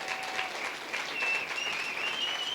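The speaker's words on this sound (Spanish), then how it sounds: "Vamos, dale un fuerte aplauso." A congregation at a church service breaks into applause, with a steady wash of clapping at moderate volume and a faint voice or tone rising above it.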